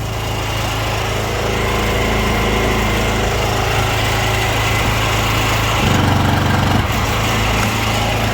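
A Weima WM2500 petrol generator runs under maximum load, giving a loud, steady engine drone close by with a brief dip in tone partway through and no talking.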